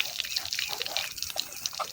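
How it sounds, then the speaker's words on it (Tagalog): Spring water drawn from underground in the mountains trickles and drips steadily at close range, a continuous light splashing with small irregular droplets and no voices. "Yung tubig galing sa ilalim ng lupa."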